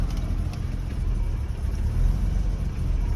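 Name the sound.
old car engine running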